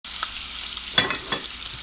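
Beef for chipped beef gravy sizzles steadily in a hot pan, a soft crackling hiss with a couple of sharper pops and scrapes, fairly quiet and close.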